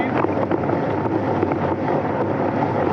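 Strong wind buffets the microphone at a windsurfing spot on the BC coast, a steady loud broadband roar with gusty rumble and no clear talk.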